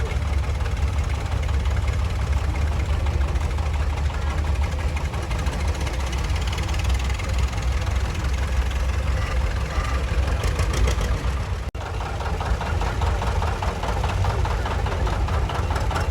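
A 1925 Ford Model T engine at a farm days parade makes a steady, loud, close rumble with a knocking idle throughout, broken by one brief dip partway through.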